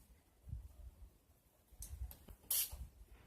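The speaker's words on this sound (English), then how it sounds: "My Wet n Wild setting spray." A short, sharp hiss of a Wet n Wild makeup setting spray bottle, preceded by a couple of soft clicks and handling sounds in a quiet room.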